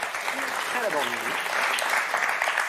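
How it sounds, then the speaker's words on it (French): A television game show studio audience applauds the contestants with steady, dense clapping throughout, while a voice speaks briefly over the noise. "on va surtout vous applaudir très fort"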